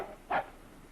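A single short dog bark sounds once, fairly close, in an old black-and-white slapstick comedy, against a low background hum with no talking.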